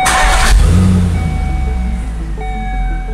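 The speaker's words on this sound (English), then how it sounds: "And new exhaust sounds pretty wicked." A Volvo S80 V8 engine with a new exhaust revs hard with a burst of throaty exhaust, then settles into a steady, loud idle rumble close by.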